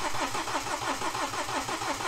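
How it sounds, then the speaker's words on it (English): A BMW engine with a broken timing chain, refitted and fuel rail previously dry, cranks over on the starter with a steady rhythmic churn, loud and close, no voices. "So let's crank it over and see how long it's going to take."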